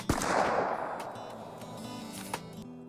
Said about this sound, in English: This gunshot is so far away